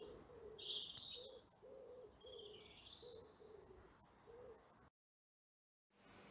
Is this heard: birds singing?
yes